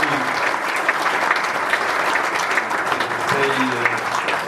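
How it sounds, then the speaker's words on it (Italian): Audience at a book presentation in Aiello applauds steadily for a few seconds, a dense, even patter of many hands with no voices over it. "un applauso a lui"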